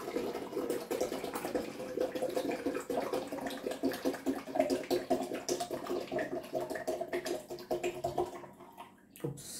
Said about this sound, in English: I'll pour some water over here.